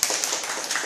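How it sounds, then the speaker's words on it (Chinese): An audience applauds a clarinet player at a community clarinet class. The dense, steady patter of many hands clapping lasts briefly, with no voices over it. "来掌声鼓励"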